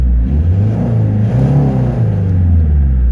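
Renault R25 turbo diesel idling unloaded, then revved in a couple of rising and falling swells, a deep close rumble with a faint turbo whine, no voices.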